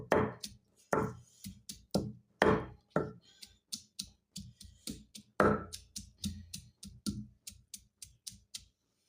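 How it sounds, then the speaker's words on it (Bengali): Garlic crushed on a flat grinding stone, a shil: a steady run of sharp pounding thuds, some hard and some lighter, close up, with no talk. "হ্যাঁ, এই রসুনটা থেতো করে নিচ্ছি"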